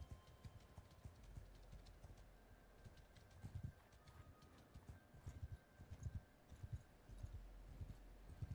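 Cavalry hooves in the video game Mount and Blade 2: Bannerlord make a rhythmic clip-clop that grows busier and louder over a faint ambient background.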